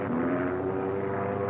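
A black airplane with a big X on its wing flies past, a steady propeller-engine drone with a sustained hum that holds fairly loud throughout, with no pause or break.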